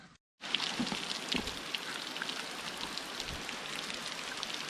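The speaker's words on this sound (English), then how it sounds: "This definitely looks like rain" Steady rain falling outdoors beside a 128-year-old log cabin under renovation, a dense continuous hiss with scattered drop patter, heard alone after a brief silent gap at the start.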